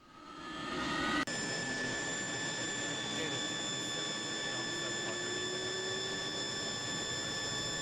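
An aircraft jet engine spooling up on a dirt airstrip, a rising tonal whine with a sharp step that settles into a sustained loud roar with steady high-pitched tones.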